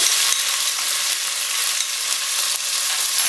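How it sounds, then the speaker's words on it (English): Vegetables splutter loudly in a hot pan with whole garam masala, a dense, steady hiss and crackle that carries on unbroken with no voices. "Now the vegetables are going to splutter."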